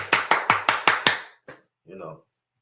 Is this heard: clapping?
yes